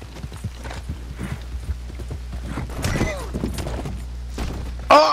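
Horse hooves in Red Dead Redemption 2, a run of soft rhythmic clip-clop thuds over a low rumble, with a voice and a brief sharp crash near the end.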